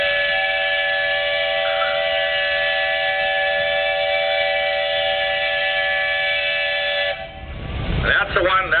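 Long steady steam whistle blast from an engine at the Rollag threshing show, loud and sustained for about seven seconds, then cutting off into crowd and outdoor noise.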